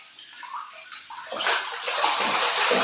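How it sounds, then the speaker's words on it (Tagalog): Water from a shower pouring into a kids' pool set up in a bathroom, starting as a faint trickle and swelling into a steady, rushing splash, close and continuous with no talking. "yun naman yung tubig na galing sa shower"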